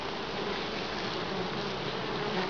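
Honey bees buzzing at an apiary hive, a dense, continuous drone of many insects close by, steady and unbroken with no talk.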